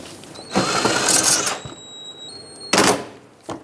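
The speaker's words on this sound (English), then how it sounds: "Now let's put in the 7mm screw to secure it." A 7mm screw being driven with a power tool to secure a car bumper on a 2010-2017 Chevrolet Equinox, heard as a whirring burst, a pause, then a second short whirring burst, close and alone.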